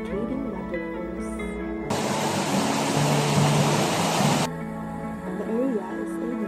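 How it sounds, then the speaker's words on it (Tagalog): Jawili Falls, a cascading waterfall in Tangalan, Aklan, pours as a steady broadband rush for a few seconds, set between stretches of music. "It has a crystal clear falls and a cascading waterfalls."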